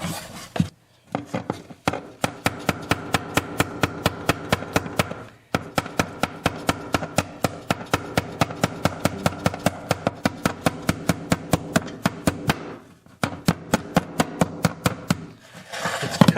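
Rapid, regular hammering taps on a plastic insert being driven out of a bridge, dozens of sharp close strikes in quick runs with short pauses between bursts.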